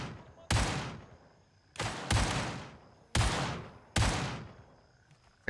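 Weapon fire in the video game Gray Zone Warfare: four loud, sharp bursts of gunfire, each with a decaying echoing tail, spaced roughly a second apart, with no talk over them.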